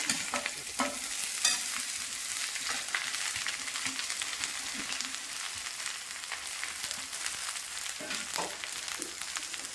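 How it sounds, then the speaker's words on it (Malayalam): Chopped leaves are stirred into onion and urad dal frying in a pan for a Kerala leaf thoran, with steady sizzling and scraping stir strokes close by throughout, with no talking. "ഇലകൾ ചേർത്ത് കൊടുത്ത് നമുക്കൊന്ന് കൂട്ടി ഇളക്കാം"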